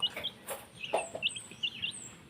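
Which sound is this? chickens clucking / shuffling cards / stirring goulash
chickens clucking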